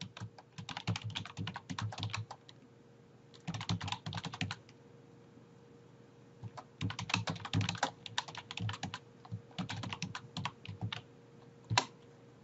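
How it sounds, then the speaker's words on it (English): Typing on a computer keyboard, entering an introduction into a wiki page: bursts of quick, close key clatter separated by short pauses, alone and with no talking. "Firstly, just type in an introduction to your wiki."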